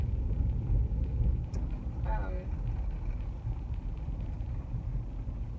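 A car drives through the streets of Arlington, Tennessee, its steady low engine and road rumble filling the cabin while people talk over it.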